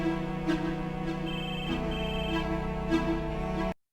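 A steady electronic phone ringtone plays continuously, a repeating melodic tone pattern, fairly loud and close, then cuts off abruptly.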